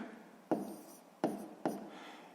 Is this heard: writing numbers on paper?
yes